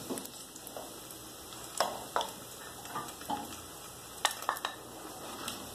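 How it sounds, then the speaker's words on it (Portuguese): Bacon crisping in a frying pan for rice with broccoli gives a steady fine sizzle with scattered pops and crackles, close and moderately loud, with no voices. "O meu bacon já está bem fritinho."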